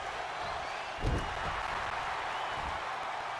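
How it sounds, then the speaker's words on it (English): Simulated arena crowd in a WWE wrestling video game, a steady broadband roar of cheering and applause with a brief louder swell near the start. "And this is a virtual crowd. They're not even real."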